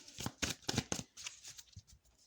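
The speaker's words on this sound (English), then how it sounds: "I'm having to stack the cards up as well on the table and shuffle" Tarot cards shuffled on a table, a quick series of crisp riffling bursts and soft slaps as the deck is stacked and cut, close and clear, with no voices.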